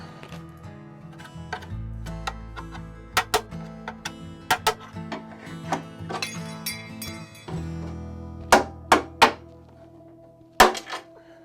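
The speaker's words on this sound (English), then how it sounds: "you just chisel these knockouts out" An old screwdriver with a broken-off tip chisels knockouts out of a metal electrical enclosure, producing irregular sharp metallic taps and clinks, some ringing, close by over a low steady hum.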